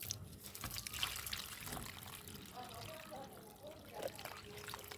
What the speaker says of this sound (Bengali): আস্তে আস্তে আমি জল প্রয়োগ করে টবটা পূর্ণ করে জল ভরে দেবো